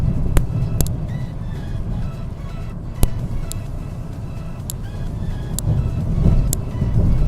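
A car descends steep mountain roads, its interior filled with a steady, loud engine and road rumble, with occasional sharp knocks and clicks over the drone.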